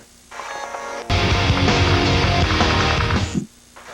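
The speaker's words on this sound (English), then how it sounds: "it sounds like a sweeping guitar, like a keyboard sound, but it's actually an acoustic guitar" Reversed, distorted acoustic guitar chords swell like a sweeping keyboard pad, rising in after a faint lead-in and cutting off sharply after about two seconds of dense sound.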